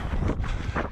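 Wind buffets the microphone during a cross duathlon in Nossegem, a steady, loud rumbling roar that covers the whole moment with no speech.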